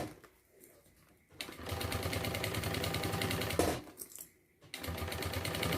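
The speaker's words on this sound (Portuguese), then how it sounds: "Agora eu costuro desde lá da borda e vou costurar bem na bordinha" A sewing machine stitches bias binding along the edge of a fabric beach bag, fast steady mechanical whirring in two loud runs separated by a short pause, close up.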